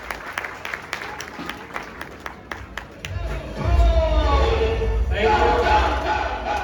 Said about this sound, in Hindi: जोरदार तालियां, धमाकेदार तालियां सबके